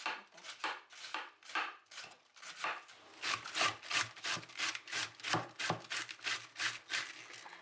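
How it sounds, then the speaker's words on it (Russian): Cabbage shredded into thin strips on a handheld shredder for homemade sauerkraut, heard as a steady rhythmic run of crisp rasping strokes, about two per second, close and alone. "У меня есть такое приспособление для того, чтобы натирать тонкие полоски. И начинаем шинковать."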